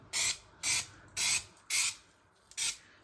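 Five short hissing bursts from an aerosol spray can painting a Ford Focus ST225 rear subframe, evenly spaced and close by, each about a third of a second long, with quiet pauses between.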